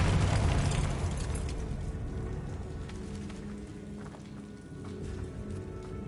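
A Confringo fire spell blast from the video game Hogwarts Legacy bursts loudly at the start, then fades into a long crackling, rumbling wash like debris and flames settling, with no voices.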